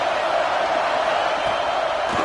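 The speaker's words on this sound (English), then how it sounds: "This crowd bringing the energy and noise early." Stadium crowd noise in a college football video game, Colorado vs Notre Dame, a steady, dense roar of fans held at an even level for a couple of seconds.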